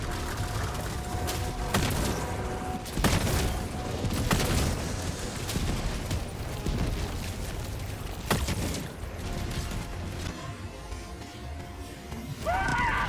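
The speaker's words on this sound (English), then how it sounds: "Why they all shooting at me?" Dense video-game gunfire with rapid bursts and sharp shots from a heavy machine gun, volleys layered together with a few louder cracks and booms.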